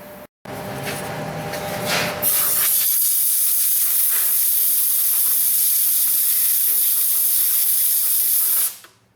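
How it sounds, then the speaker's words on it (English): Compressed air from a blow nozzle blasts rust out of the fuel filler neck of a Ford Flex with an EVAP leak, a loud, steady hiss lasting about six seconds close to the microphone that then cuts off. "get a blow nozzle. I'm going to blast some of the rust out of there."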